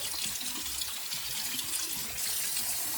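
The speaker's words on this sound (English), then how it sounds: "And then you want to flush all this out real well." Water from a running tap rushes through a slow-filling toilet's fill valve to flush out its seal: a continuous, soft, hissing splash heard close up with no talking.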